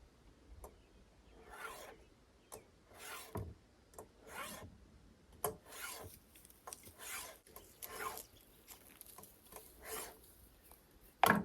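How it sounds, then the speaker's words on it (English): A chainsaw chain sharpened by hand with a file before logging at an off-grid log cabin build, repeated rasping strokes in an uneven rhythm, close and fairly quiet. "I need to sharpen my chainsaw if I'm going to be doing a bunch of logging today."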